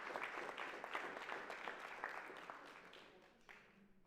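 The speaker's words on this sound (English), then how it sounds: "Round of applause." Scattered, moderately quiet applause from an audience at a children's reading competition prize-giving, with clapping that thins out toward the end.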